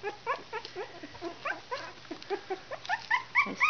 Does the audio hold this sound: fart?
no